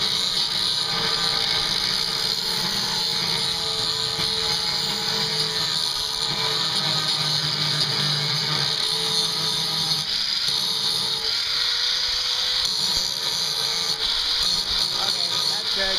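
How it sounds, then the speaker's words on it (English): An angle grinder works on metal while a motorcycle book box is built, a steady high whine sustained throughout at close range, with voices in the background. "Yeah, so grind it one more time."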